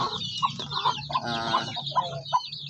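Rhode Island cross chickens, nearly three months old, cluck close by in a series of short repeated calls at a fairly even pace, with soft rustling between them.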